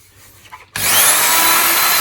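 A variable speed drill suddenly starts and runs steadily with a loud, bright whirring hiss while polishing plastic vacuum cleaner tips, close up and alone.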